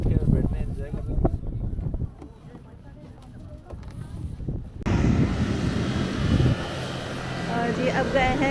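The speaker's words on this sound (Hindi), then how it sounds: "ये जेट स्की।" A jet ski engine drones steadily on a lake in Kashmir near the Line of Control, with wind buffeting the microphone and the engine sound swelling louder partway through, while people talk.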